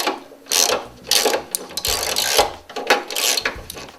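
A hand ratchet works loose bolts on an MGB car, its pawl clicking in rapid repeated strokes, close and loud, broken by brief pauses between bursts; nobody speaks.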